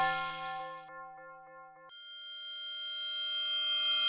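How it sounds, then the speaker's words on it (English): Digital tubular bell preset from the Purity plugin's bell and percussion section, clean sustained tones ringing out in a short sequence of notes, bright and synthetic, with no voices. "this tubular bell is actually the purity one, the digi tubular preset in the bell and perk section"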